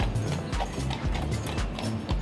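A horse pulling a buggy through downtown San Antonio, Texas, its hooves clip-clopping in a steady, close rhythm on pavement, with a faint neigh among the steps.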